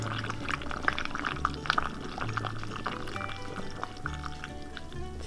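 Raw apple cider vinegar is poured into a jar packed with food, a continuous gurgling trickle with small splashes and clinks, close and fairly steady throughout.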